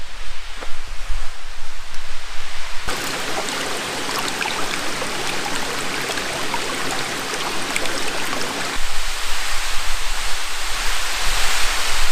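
A woodland creek in Allegany State Forest babbles over a small dam, a loud, constant rush of flowing water that swells for several seconds in the middle before easing back.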